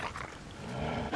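Growling, barking dog from the Resident Evil 6 video game, chasing through a cemetery; a short, fairly loud snarl that builds toward the end, with game ambience underneath.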